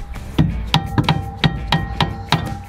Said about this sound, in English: So I just have a rubber mallet, because I don't want to damage anything.